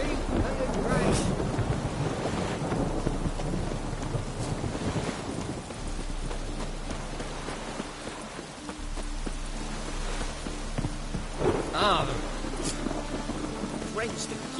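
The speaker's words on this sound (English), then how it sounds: "let it rain" Game rain in The Witcher 3: a steady wash of falling rain with gusty wind rumble and low thunder-like roll, continuous throughout, with faint voice fragments.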